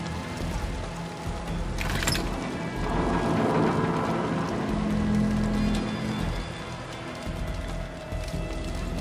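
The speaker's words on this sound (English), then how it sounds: "storm coming" Thunderstorm with steady rain in the Far Cry New Dawn video game, a continuous wash of rainfall with a sharp crack near two seconds and a low rumbling roll of thunder building after it.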